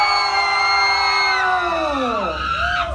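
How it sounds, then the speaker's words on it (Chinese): A sustained, loud wall of shrieking and cheering from fans at a Hong Kong fan event, many high voices held together before sliding down and fading out. "那邊的人沒有尖叫聲再來一次好不好"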